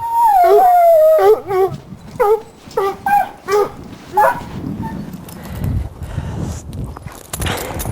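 Hunting dogs on a mountain lion track in Montana bay loudly nearby, one long drawn howl followed by a rapid series of short yelping howls, then fading into rustling and hoof-like clatter.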